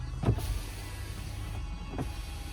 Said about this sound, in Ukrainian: Перейдемо до склопідйомників.